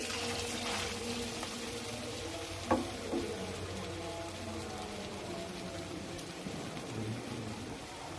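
Chicken pakora fries in hot oil with a soft, even sizzle that stays quiet throughout, broken by a single faint clink.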